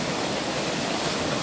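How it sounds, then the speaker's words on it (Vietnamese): A mountain stream rushes over rocks near a waterfall, giving a loud, dense, unbroken roar of flowing water close by. "bây giờ em đi dạo quay sơ qua cái cảnh suối ở đây nha bà con"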